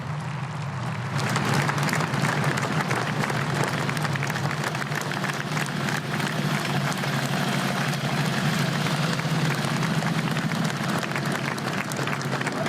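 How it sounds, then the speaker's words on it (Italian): Sustained applause from a large crowd greeting an arrival at an official ceremony with a carabinieri honour guard fills the whole stretch, steady and dense, with a low rumble underneath. "Il lungo applauso all'arrivo, sentiamo il lungo applauso."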